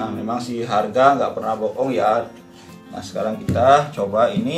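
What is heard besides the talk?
No everyday noises stand out.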